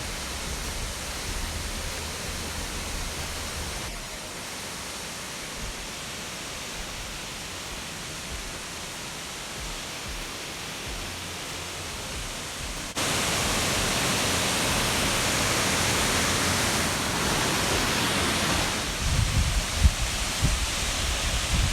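Waterfall in New Zealand pouring steadily, a broad unbroken rush of falling water heard up close, growing louder partway through and staying dense to the end with no voices.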